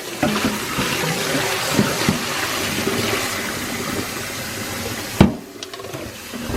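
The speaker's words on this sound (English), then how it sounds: "I am adding super cold water into this pan." Super cold tap water pours steadily into a pan for chilling hard boiled eggs, a continuous broadband rush close by that cuts off abruptly near the end, leaving a quieter pause.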